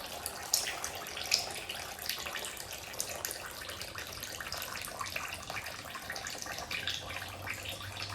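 Fluid drains from a Dodge D100 truck engine under repair for a valve cover gasket leak, a steady, faint trickle and splash that continues without a break, with a couple of small metallic clinks and no talk.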